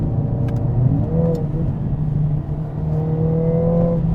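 A Mercedes-AMG CLA 45 S in Sport Plus mode accelerates hard, its engine revving in a loud, close, sustained roar with rising pitch sweeps as the revs climb.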